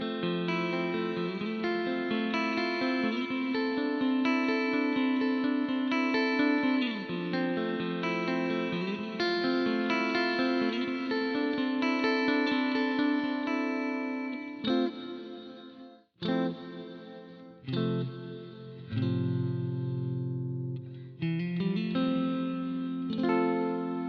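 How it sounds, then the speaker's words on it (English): An electric guitar played through a Boss RV-500 pedal on its early reflection reverb setting rings out in sustained chords with a short, dense ambience, dropping briefly to near silence before picking up again with strummed stabs. "Next reverb type is the early reflection, one of my favorites."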